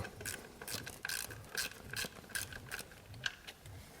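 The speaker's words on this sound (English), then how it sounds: "Once you can feel it, put the socket on, and we'll back it out" A ratchet and socket back out an ignition coil bolt on a GM 3100 engine, giving a run of quick, close, light clicking bursts at a fairly even rhythm with no talking.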